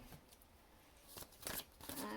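Tarot cards, a Welcome to Night Vale deck, are shuffled by hand in a quiet room. A few faint, soft rustling riffles come and go without any talk.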